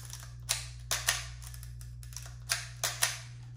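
A Canon AE-1 film camera's advance and shutter mechanism clicks and snaps several times up close, sharp mechanical clacks in an uneven rhythm over a steady low hum.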